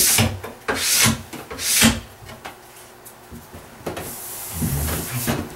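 A ski base is scrubbed from tip to tail in repeated long brushing strokes, each a dry rasping swish with short pauses between passes, close and fairly loud, with no talking.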